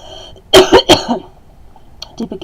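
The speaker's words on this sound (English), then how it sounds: "I'm just getting over this cough" A person coughing close and loud, three quick harsh coughs in a burst, then a quieter throat-clearing rasp a second later.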